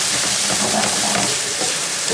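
Chicken schezwan with spices sizzling and being stirred in a pan over high heat, a steady loud frying hiss with faint scraping, no voices.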